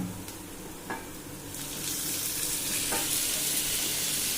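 Dried fish thokku fries in a pan until browning, a moderate sizzle that swells and grows brighter partway through, with faint stirring clicks and no speech.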